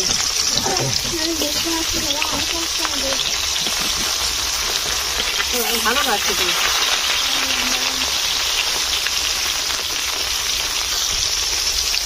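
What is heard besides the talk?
rohu fish frying in oil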